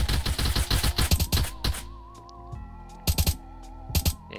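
Automatic gunfire in a video game during a Halloween event, rapid bursts of shots, a pause with faint background tones, then two shorter bursts.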